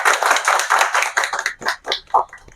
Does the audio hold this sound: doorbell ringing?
no